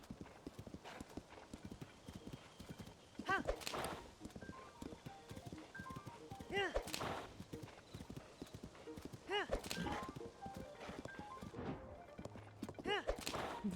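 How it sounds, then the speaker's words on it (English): A horse gallops in Zelda: Tears of the Kingdom with a fast, rhythmic clip-clop of hooves throughout and louder bursts every few seconds, while a person talks over it. "Very good horse. Very fast and lots of stamina."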